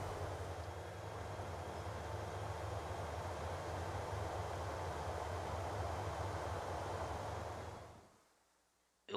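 A freight train carrying meat rolls along steadily in the Transport Fever 2 video game, a continuous low rumble and rail hum that holds for several seconds and then fades out abruptly.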